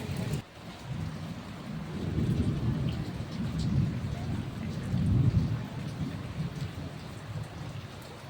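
A thunderstorm rolls on, with steady rain pattering on surfaces and deep, rumbling thunder swelling and fading in long waves, fairly loud and close throughout.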